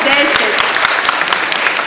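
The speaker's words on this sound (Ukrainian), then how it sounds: "Тож не жалійте оплесків" Applause from an audience at a televised Ukrainian song-contest stage show as a winning school vocal ensemble is welcomed, dense steady clapping filling the whole short stretch, with a faint voice or crowd murmur mixed in.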